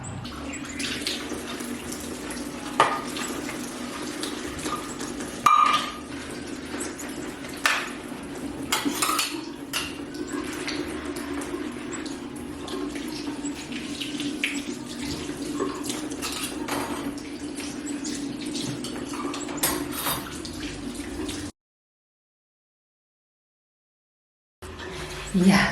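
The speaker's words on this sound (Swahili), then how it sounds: "Kinachofuata nataka mimi hapa nioshe hivi vyombo." Dishes and pots being washed under a running kitchen tap, with steady flowing water and frequent clinks and clatters of crockery and cutlery close by, then a brief silence near the end.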